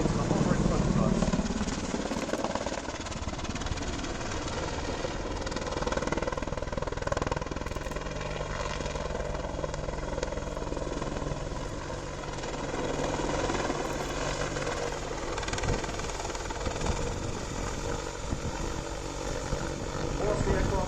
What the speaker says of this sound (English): the Apache is now conducting a 360 wing over and is going to position into the hover in front of us